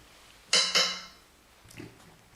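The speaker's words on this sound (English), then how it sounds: "That was my chair squeaking." A chair squeaks during a card reading session: two sharp creaks in quick succession, then a fainter, lower creak a moment later, close and fairly loud with no talk.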